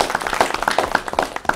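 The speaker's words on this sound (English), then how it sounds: "Round of applause to them." Audience applause at a university board of trustees meeting, a dense run of many hands clapping that stays fairly steady and close throughout.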